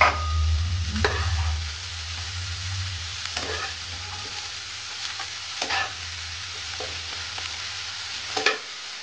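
Broccoli stirred and sautéed in a hot pan, a steady close sizzle and frying hiss with occasional scraping stir strokes, a low rumble underneath, no voices.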